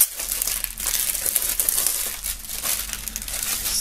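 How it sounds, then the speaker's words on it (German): Plastic shrink-wrap foil being peeled and crinkled off a CD bundle, a close, loud, continuous crackling and rustling without talk. "Dann schauen wir mal, dass wir die Folie abbekommen."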